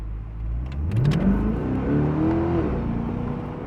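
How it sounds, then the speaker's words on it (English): Corvette E-Ray engine firing up with the front electric motor and rising into a rev, a close, loud climbing growl that swells then settles into a steady idle, with no talk. "it starts synchronizing the engine with the front motor"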